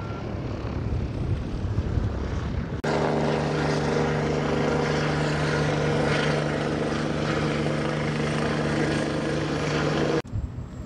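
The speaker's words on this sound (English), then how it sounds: "Got a Milwaukee M12 pump." Milwaukee M12 pump on a fiber conduit job, switching on abruptly into a steady, loud mechanical hum with a droning tonal whine, running for several seconds before cutting off.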